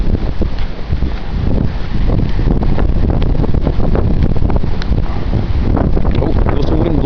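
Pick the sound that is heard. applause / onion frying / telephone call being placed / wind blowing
wind blowing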